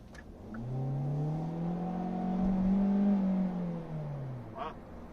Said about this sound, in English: Pretty decent acceleration for a little four-banger.